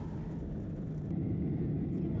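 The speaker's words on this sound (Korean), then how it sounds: "비행기가 이륙을 시작했다." Airliner engines during takeoff on a flight leaving Seoul for Japan, heard from inside the cabin as a steady broadband roar and low rumble that swells slightly toward the end.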